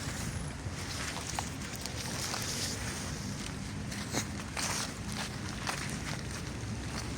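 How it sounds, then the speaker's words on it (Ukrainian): Rain falling on a walk outdoors among birches and firs in Oleksandriia in October, a steady broadband patter with scattered sharper drops and wind noise throughout, no talk. "Нормальний, дивіться, який дощ."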